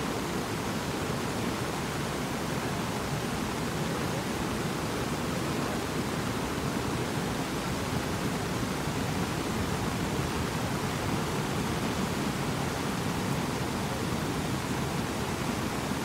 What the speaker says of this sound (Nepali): कस्तो खोला आइरहेछ